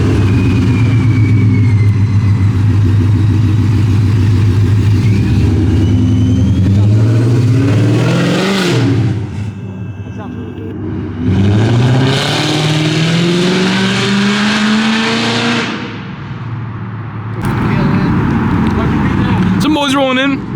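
Supercharged cars with ESS blowers rev hard at an underground car meet in Houston. The loud, close engines surge and rise in pitch in repeated pulls, with voices talking underneath.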